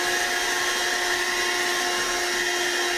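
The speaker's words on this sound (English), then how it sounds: "which is a vacuum cleaner." A handheld vacuum cleaner tool runs steadily and close by, its constant motor whine holding without a break as it cleans a surface on an electronics workbench.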